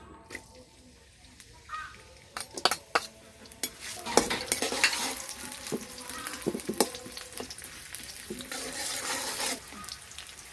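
Chopped onion frying in white oil, a close sizzle building steadily with scattered clinks and scraping stirs, growing louder toward the end.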